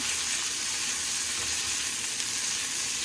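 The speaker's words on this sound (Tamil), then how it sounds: "இது கூடயே இந்த இஞ்சி பூண்டையும் சேர்த்துடணும் சேர்த்து நல்லா வந்து நம்ம வதக்கிக்கலாங்க" Ginger and garlic sauté in a pan for a South Indian chicken kuzhambu, giving a loud, even, continuous hiss of frying oil close by with no voices.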